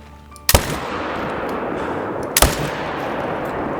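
Two loud, sharp rifle shots about two seconds apart, fired at red foxes during a hunt in the game Call of the Wild, each ringing out over a steady outdoor ambience.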